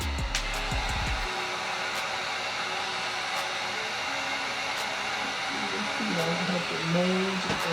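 A heat gun blows hot air steadily onto a Gunskins rear grip to soften and mold it, its constant whooshing roar running throughout while someone talks over it.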